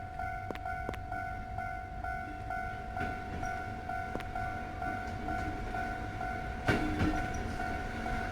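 A train rolls through a railroad crossing in a video game, a steady low rumble and rattle of cars with a warning bell tone ringing throughout and a brief louder clank near the end, no talking.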